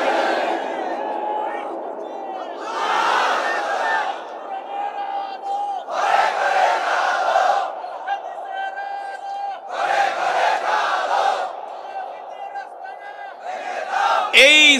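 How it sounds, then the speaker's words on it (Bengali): A large crowd at an Islamic sermon gathering chants the takbir 'Allahu Akbar' in loud, massed bursts that recur every few seconds, with a single leading voice calling out between the roaring responses. "নারায়ে তাকবীর আল্লাহু আকবার এটা কোন দলের স্লোগান নয়, এটা কোন জাতির স্লোগান নয়"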